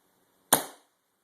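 A single sharp CO2 airgun shot fired through a shooting chronograph, one crisp crack that fades within a few tenths of a second, then silence.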